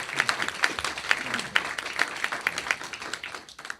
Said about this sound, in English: So give a big round of applause to Larkin Murray.